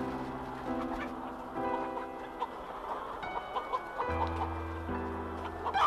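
Chickens cluck at a poultry farm, a scattered run of short calls at moderate distance, set against steady sustained musical tones throughout.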